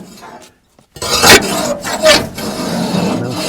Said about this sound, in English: I scrape the top of the left-hand side.